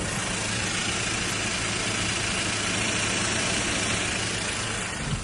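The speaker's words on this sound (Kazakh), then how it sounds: "Мотор завод болып тұр." A 2024 Kia Bongo III truck engine with about 10,500 km runs at a steady idle, a continuous low hum and rumble heard up close and alone, without any talk.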